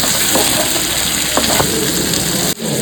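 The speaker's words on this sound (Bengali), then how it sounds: "চলো, এটাকে একটু ফ্রাই করে নিচ্ছি।" Chicken sizzles loudly in a pan with tomato and salt, a continuous hiss of frying with a brief clatter of stirring near the end.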